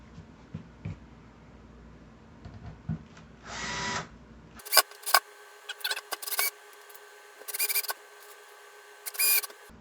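Screws are driven into the pickguard of a Peavey T-60 electric guitar with a small power driver, heard as several brief buzzing bursts with pauses between them, close but fairly quiet.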